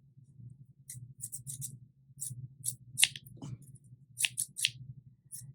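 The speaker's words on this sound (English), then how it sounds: "And my scissors." Scissors snip through paper while a DIY greeting card is made, a series of crisp, quick close-up cuts in irregular bursts over a low steady background hum.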